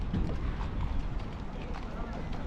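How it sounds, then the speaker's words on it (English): Horse-drawn carriages clip-clop along a busy Vienna street near a monument, the hoofbeats blurred into steady outdoor street noise and wind, with a voice talking over them. "I see a lot of horse carriages"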